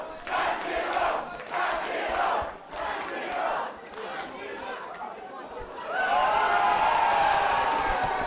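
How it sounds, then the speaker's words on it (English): A wrestling crowd at an international singles match roars and chants for Vampiro in waves of cheering that swell loudly near the end, with a commentator talking over the noise. "listen to the crowd getting behind Vampiro"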